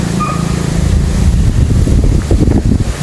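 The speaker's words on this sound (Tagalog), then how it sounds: "Lakas ng hangin." Strong gusts buffet the microphone in loud, rumbling bursts, with a faint tone briefly audible early on.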